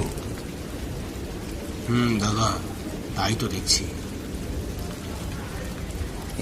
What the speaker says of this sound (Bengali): ঝমঝম করে শুরু হলো মুষলধারে বৃষ্টি, সঙ্গে বজ্রপাতের ঝলকানি।